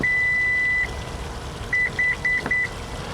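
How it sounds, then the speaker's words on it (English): A 2021 Toyota Sienna minivan gives one long electronic beep, then three quick short beeps after a pause, clear and close over a low hum. "you're gonna hear one beep and then 3 quick beeps"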